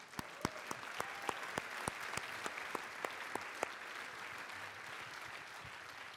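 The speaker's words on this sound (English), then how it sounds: "So can we clap so he can hear us in heaven?" A tribute clap breaks out in a lecture hall, soft and somewhat distant, starting as scattered separate claps that build into a steady, moderate wash sustained for several seconds without voices over it.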